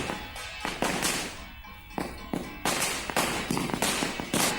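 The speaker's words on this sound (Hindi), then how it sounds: "इसी उड़ते आतंक से निजात पाने के लिए पटाखे फोड़े जा रहे हैं ताकि टिड्डियों को यहां से भगाया जा सके" Firecrackers set off in Rajasthan to scare away a locust swarm crack in a rapid series of loud, sharp bangs, some clustered close together, with continuous background noise between blasts.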